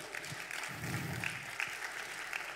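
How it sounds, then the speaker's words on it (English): Steady applause from a crowd, a continuous patter of clapping at moderate distance with no one speaking over it. "give the grown-ups a round of applause"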